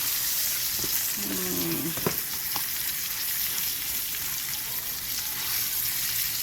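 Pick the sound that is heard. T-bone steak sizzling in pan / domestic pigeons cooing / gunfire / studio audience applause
T-bone steak sizzling in pan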